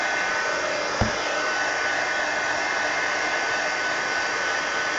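A heat tool blows steadily to dry gesso on an art journal page, a continuous broadband whoosh running the full length, close and fairly loud, with one brief click near the start.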